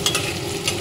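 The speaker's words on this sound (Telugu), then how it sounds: "ఆనియన్ అండ్ పచ్చిమిర్చి, అల్లం తరుగు వేసుకోవాలండి. ఇది బ్రౌన్ కలర్ వచ్చినంత వరకు ఫ్రై చేసుకోవాలి." Chopped onion, green chilli and ginger fry in a hot pan for mushroom curry, a brief close sizzle with soft stirring scrapes and no voices.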